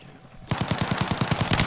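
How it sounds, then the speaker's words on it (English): Rapid automatic gunfire in Call of Duty: Warzone breaks out after a quiet half-second, a loud, evenly spaced burst of about a dozen shots ringing out close by. "Shooting me from the back."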